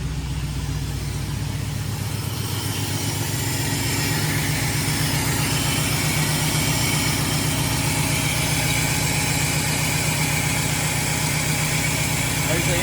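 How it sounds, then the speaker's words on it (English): Studebaker Champ engine idling steadily up close, a continuous low rumble with broadband whoosh, constant in level throughout. "There's the engine running."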